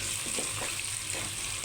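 Curry leaves fry in hot oil for mango pickle, giving a continuous close sizzle and crackle that lasts throughout.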